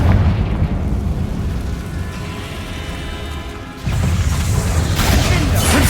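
A Confringo fire spell explosion from Hogwarts Legacy rumbles loud and continuous, then surges again near the end into a fresh burst of booming noise, with no speech over it.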